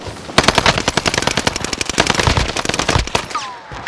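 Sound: heavy gunfire in the video game Call of Duty: Warzone

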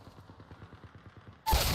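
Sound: sniper rifle gunfire in a video game

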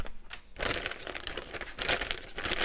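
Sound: crinkling of a thick plastic packaging bag

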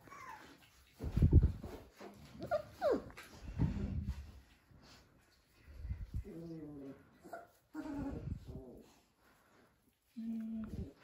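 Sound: four-week-old Dalmatian puppies whimpering

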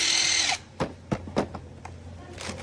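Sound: cordless drill running

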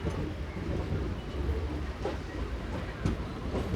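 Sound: MEMU train running

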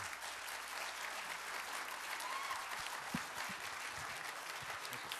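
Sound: round of applause

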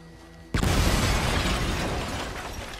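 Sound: dynamite explosion in Red Dead Redemption 2 video game

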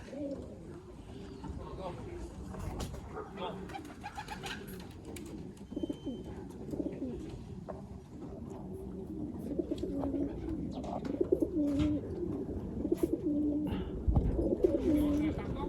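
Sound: pigeons cooing and landing

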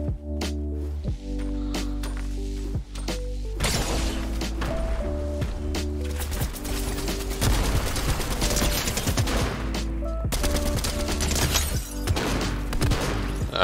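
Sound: gunfire in the video game Fortnite

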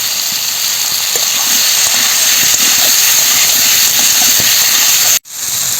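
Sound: water added to hot pan of pumpkin and fish, hissing

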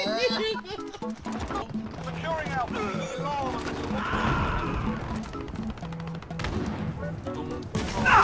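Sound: grenade explosion and gunfire in video game

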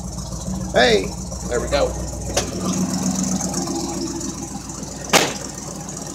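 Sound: Oldsmobile Cutlass car engine idling after starting

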